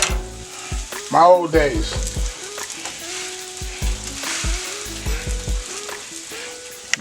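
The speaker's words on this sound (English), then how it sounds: "Toast up a little bread there." White bread toasting in a hot pan as part of a smoked sausage sandwich, a continuous close sizzle and crackle that runs beneath a voice.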